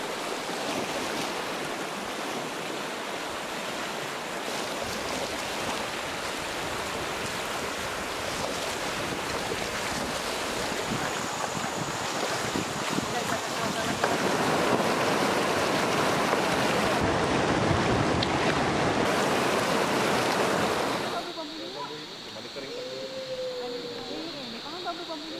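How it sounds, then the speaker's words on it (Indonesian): River water rushes through a mountain area at a tourist spot, a dense and continuous broadband roar that stays loud throughout and eases slightly near the end. "disertai suara arus air sungai yang melintas"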